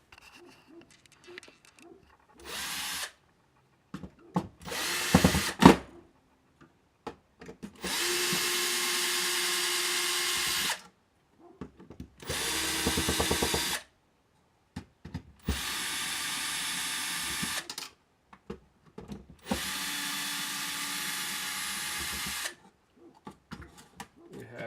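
A power screwdriver backs out long screws from the casing of a Gemini perfusion pump in several separate whirring bursts of a few seconds each, close and clear, with quiet pauses between them.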